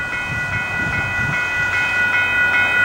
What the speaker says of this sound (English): these e-bells are on quiet setting.